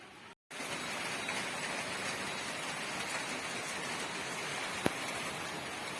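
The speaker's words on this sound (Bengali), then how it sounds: "দেখুন কন্টিনিউ বৃষ্টি হয়ে যাচ্ছে, সেই কালকে রাত থেকে হচ্ছে, এখনো হচ্ছে।" Steady continuous rain falls outdoors after a night of rainfall, a dense even hiss after a brief near-silent gap at the start, with one faint sharp knock partway through and no voices.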